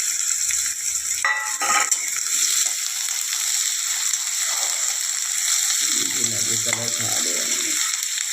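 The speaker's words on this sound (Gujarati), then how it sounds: "હવે એમાં આપણે કાપેલી ડુંગળી નાખીશું અને ડુંગળીને સરસ મજાની શેકાવા દઈશું." Chopped onion and cumin frying in a pan, a steady sizzle with a brief clatter and stirring noises, and a person speaking softly over it.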